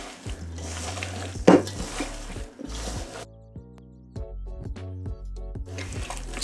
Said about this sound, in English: you're just going to start scrunching it all in there.